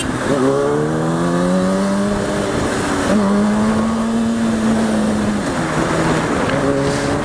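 A car engine drones steadily from inside the cabin while driving in road traffic, its pitch rising and falling as the vehicle speeds up and eases off, loud and continuous with no talk.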